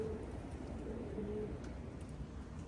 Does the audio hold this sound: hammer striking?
no